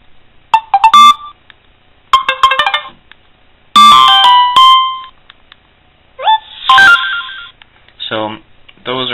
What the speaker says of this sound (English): So those are the ringtones for just the messaging.